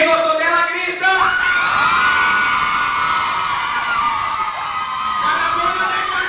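Children and adults shout, whoop and cheer together at a nursery-school Christmas party, a loud, sustained crowd roar lasting several seconds.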